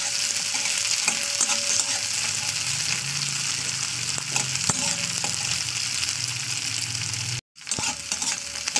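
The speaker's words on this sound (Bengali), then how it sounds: "জাস্ট একটু তেলে ভাজা করে নেবো" Seeds frying in a little oil in a pan (kadai) for chire pulao, a steady close sizzle with occasional stirring scrapes, running continuously apart from a brief cut near the end.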